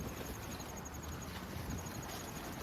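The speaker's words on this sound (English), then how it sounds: "I hope this wind isn't doing a number on the microphone" Wind buffets a microphone outdoors in a garden, making a faint, steady rumbling hiss with slight gusty fluctuations and no speech.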